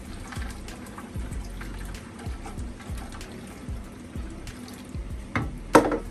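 Tap water runs steadily over wood chips in a container to soak them, a continuous moderate splashing with soft knocks and a brief louder splash near the end.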